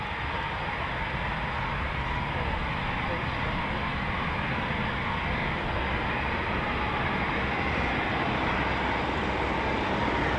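A Eurofighter Typhoon FGR4 jet departing RAF Coningsby produces a continuous broadband engine roar that holds steady and loud for the whole stretch, without clear gaps.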